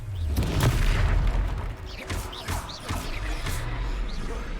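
In the video game Hogwarts Legacy, the Confringo fire spell lands with loud, booming explosions, one heavy blast followed by further crashing impacts and rumbling debris.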